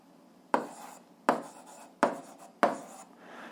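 Pen strokes on paper while a math solution for an 8th-grade algebra equation is written out, four distinct scratchy strokes at an even pace, close and quiet, with no talking.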